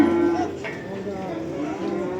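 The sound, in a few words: cattle mooing at a calf market in Barda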